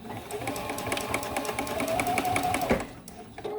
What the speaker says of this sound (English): Take a few stitches, do a little back stitch to secure that in place.